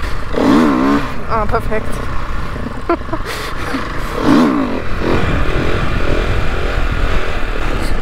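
A motorcycle engine revs up in repeated rising surges for a wheelie, loud and near, with wind rumble and a voice speaking briefly over it.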